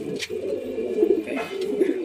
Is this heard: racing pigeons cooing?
yes